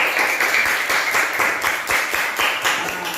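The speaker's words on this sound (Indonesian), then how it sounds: "Coba tepuk tangan ya untuk ini ya teman-teman ya" Children clap their hands in a classroom, a dense, fairly loud patter of many palms that carries on steadily throughout with no talking over it.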